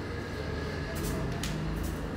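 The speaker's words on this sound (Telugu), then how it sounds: "మన ట్రైన్ అయితే వచ్చేసింది. వ్యాప్ 7 ఇంజిన్, ఎలక్ట్రిక్ ఇంజిన్ అండి ఇది." A Kaveri Express train hauled by a WAP-7 electric locomotive rumbles past nearby at a station, with a low, steady mechanical drone and brief bursts of hissing noise.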